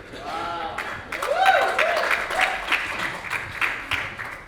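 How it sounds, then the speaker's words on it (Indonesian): A church congregation at a teachers' retreat applauds, scattered clapping building into a moderate round while a voice speaks over it, rising and then holding steady. "Beri tepuk tangan buat Tuhan."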